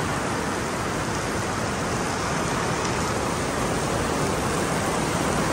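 Steady, dense rain hissing evenly across the whole stretch, falling near a beach on Sentosa island in Singapore, with no voices and no breaks.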